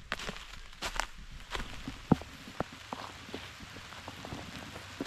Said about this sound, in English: it doesn't look like this rain's going to hold up